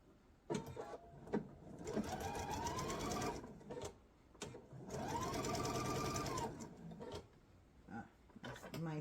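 A sewing machine runs a straight quarter-inch seam on a quilt sampler block, whirring in two long bursts with short stops and clicks between, close and loud, with someone talking around it.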